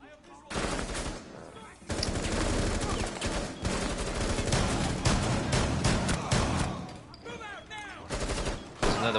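Shotgun fire in close indoor rooms in Rainbow Six Siege, with dense, loud, continuous bursts of gunshots over several seconds and brief pauses near the start and end.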